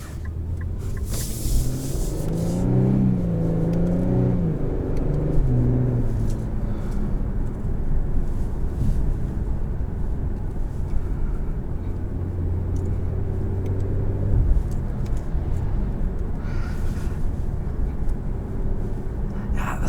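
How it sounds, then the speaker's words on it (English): Steady engine and intake roar heard from inside the cabin of a 2021 Infiniti Q50S Red Sport 400, a continuous low rumble that swells and shifts in pitch as the car accelerates. "You get a lot of intake noise in the cabin"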